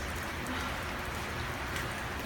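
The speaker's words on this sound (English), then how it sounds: "It's raining." Steady rain falls in a tropical rainforest near Iguazu Falls, Brazil, a dense, even hiss of drops with no voices and no gaps.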